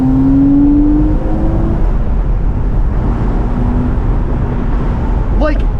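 A Porsche Boxster with roughly 250 horsepower accelerates at full throttle, a loud close engine note that climbs in pitch, drops at a gear change and keeps pulling. A brief high chirp comes near the end.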